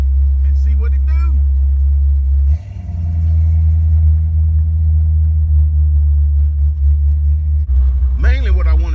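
Ford Mustang Foxbody with fresh spark plugs accelerating through an alleyway: a loud, close engine roar that drops briefly and then holds a deep steady drone, with short bursts of talking at the start and end.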